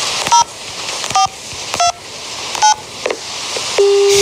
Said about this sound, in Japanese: もう一回電話してみよう。